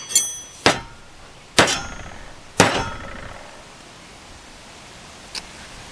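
A Keen Kutter tool is whacked on a wooden workbench with three sharp, ringing clangs at uneven intervals, each fading quickly, followed by a faint tap.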